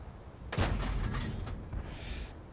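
A tank cannon fires in World of Tanks on a shooting range, one loud sharp blast followed by a rumbling decay and faint mechanical after-sounds, with no talking.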